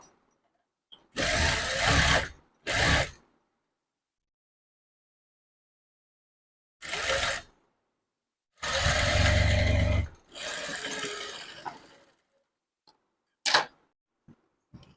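A sewing machine runs in several separate bursts while double stitching a blouse, each run loud and close with short pauses between, followed by a few faint clicks near the end.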